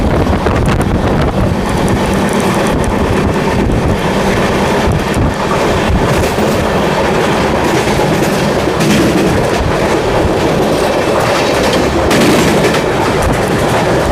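Continuous rumble and rattle of an LHB passenger coach on the Amrit Bharat Express rolling along the track, heard from inside with wind buffeting, steady and loud throughout with no speech.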